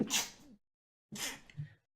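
Two sharp sneezes, close and loud, separated by a brief silence, the second followed by a short breathy trailing sound.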